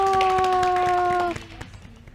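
A classroom of students claps for a group that just finished a math microteaching presentation, a short burst of scattered hand claps alongside a sustained tone that cuts off, then the clapping thins out.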